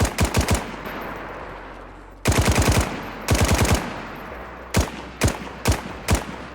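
Automatic 9x39 rifle fired in DayZ, loud close bursts of rapid shots: a short burst, a pause, two longer bursts, then several single or double shots spaced out at the end.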